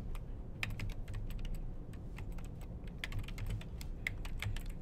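Steady stream of computer keyboard typing while code is entered in Flash, keystrokes clicking in an irregular, rapid rhythm, close and moderately quiet, with no talking.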